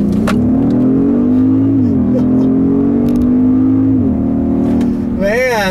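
A 2018 Genesis G80 Sport AWD with a 3.3 liter twin turbo V6 accelerates hard in sport mode, a loud, steady engine drone rising in pitch through the gears, heard from inside the car with a brief shift dip and whine near the end.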